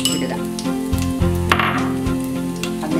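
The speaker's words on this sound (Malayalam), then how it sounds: "കടുക് പൊട്ടിക്കഴിയുമ്പോൾ അതിലേക്ക് നുറുക്കി വെച്ചിരിക്കുന്ന തേങ്ങാക്കൊത്ത് ഇടുക." Coconut pieces fry in hot coconut oil with popped mustard seeds for Kerala beef ularthiyathu, giving a steady close sizzle with faint pan clinks and stirring throughout.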